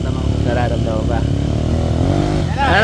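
Motorcycle engine revving hard at close range during a stage two drag race event in Bulacan, a loud steady roar with rising pitch sweeps near the end, while excited voices shout over it.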